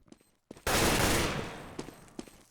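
AK rifle fire in a professional CS:GO match on the Overpass map: after a few faint clicks, a loud sustained burst of gunfire erupts and slowly decays, with a few sharper shots near the end.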